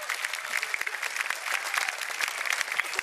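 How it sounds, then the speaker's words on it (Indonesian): Audience applause at a stand-up comedy show, a dense steady clapping from a crowd lasting the full few seconds, with no talk over it. "Terima kasih ya, tepuk tangannya."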